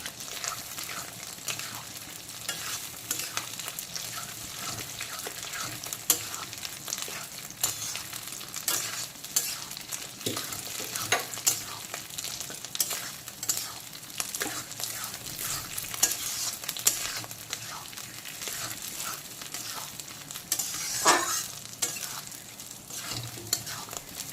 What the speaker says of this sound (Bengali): এখন বেশ কিছুক্ষণ মাছের ডিমটাকে আমের সঙ্গে ভালো করে তেলের মধ্যে এইভাবে কষিয়ে নেব।